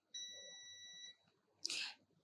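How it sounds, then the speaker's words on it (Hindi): Digital multimeter on continuity mode beeping while probing the cathode of a diode on a phone circuit board; one steady electronic tone lasting about a second, followed by a short burst of noisy contact. "देखिए रजिस्टर के दूसरे कॉर्नर से क्या बीप दे रहा है, कैथोड बीप दे रहा है।"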